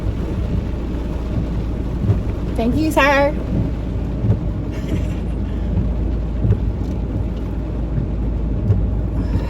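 Heavy rain pours outdoors in a steady, loud wash with low rumbling underneath, continuous throughout, while a voice briefly speaks near the start.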